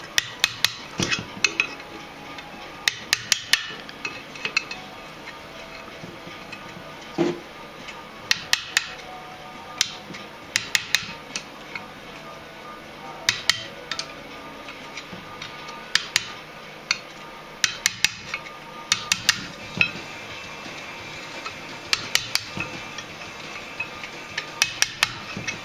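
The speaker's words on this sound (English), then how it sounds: "Another screwdriver, and we'll just try to tap that one back." A screwdriver is tapped to release locking tabs on the rear axle and suspension of a 1959 Triumph TR3A under restoration, giving sharp, irregular metallic taps in small clusters over a quiet workshop background.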